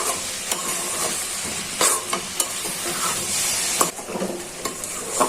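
Okra and spices fry in a pan with a constant sizzle, broken by sharp scraping clacks as a spoon stirs several times.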